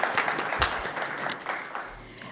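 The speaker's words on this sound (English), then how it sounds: "Let's give it a round of applause." Brief, fairly quiet applause from a small audience after a presentation at an online inclusive hiring event, a few distinct claps rising and fading.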